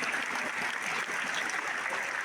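Dense, steady applause from a crowd clapping together at a teacher's retirement gathering, continuous and fairly close, with no break across the short stretch.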